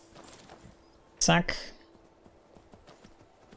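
A horse in Skyrim Remastered makes a short, loud, close burst of hoof or snorting noise amid quieter game sounds, while someone talks.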